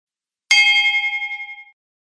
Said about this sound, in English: Easy manual bell ringing for any schedule.